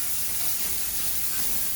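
Smash burger patties just flipped onto a hot surface, giving a continuous, even hiss of sizzling fat with no pauses and no talk.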